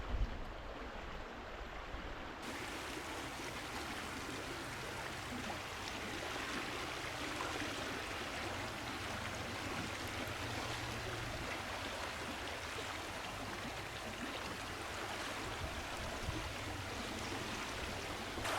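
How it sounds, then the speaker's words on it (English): A fast river current at Palmetto State Park, Texas swirls, doubles back and breaks over rocks below steep cliffs, making a continuous broad rushing wash with no pauses. "The water swirls, doubles back, and breaks over the rocks below."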